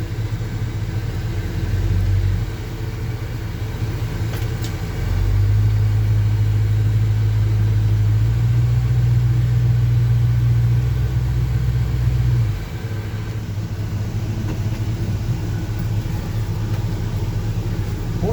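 A 1975 Chevy C10 pickup truck idling after a cold start, a loud steady low rumble from close by that rises into a higher, faster idle for several seconds before settling back down.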